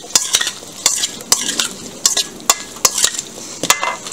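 Tomato salad being stirred with olive oil and lemon juice in a serving bowl, with a string of close, crisp utensil scrapes and light clinks in an irregular rhythm.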